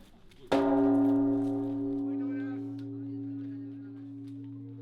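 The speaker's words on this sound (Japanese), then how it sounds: "ここでは年末行事として除夜の鐘つき" A large temple bell is struck once at a Kyoto temple during New Year's Eve rites, a loud clang followed by a long, deep, slowly fading hum.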